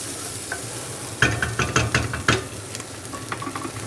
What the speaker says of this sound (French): il faut juste bien remuer